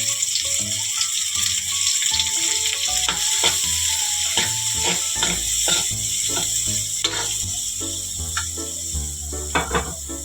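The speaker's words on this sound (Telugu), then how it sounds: "అదే నూనెలో కట్ చేసి పెట్టుకున్న ఉల్లిపాయలను వేసుకోవాలి." Chopped onions sizzle steadily in hot oil for an egg tomato curry, with loud continuous frying and intermittent scraping stirs throughout.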